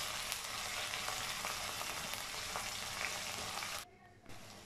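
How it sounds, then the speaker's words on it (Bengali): Ginger, garlic and cumin paste with green chili paste frying in oil in a wok, a dense steady sizzle up close that cuts out abruptly near the end before a softer hiss returns. "সেই মশলাগুলো এখন কষানো হয়ে গেছে প্রায়।"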